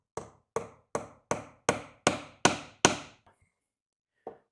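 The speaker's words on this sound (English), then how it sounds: "So I'm going to drive these 2 nails in like so" Eight evenly spaced hammer blows drive two nails into a guitar pickup build, each sharp strike ringing briefly before the next, followed by a couple of softer taps and one last isolated knock.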